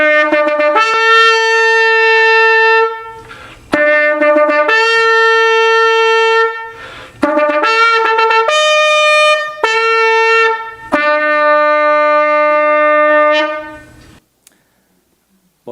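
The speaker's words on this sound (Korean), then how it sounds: "이게 바로 은나팔 소리입니다" A silver trumpet played in several loud, bright sustained blasts, some steady and some broken into shorter rising notes, with brief pauses between them before it stops.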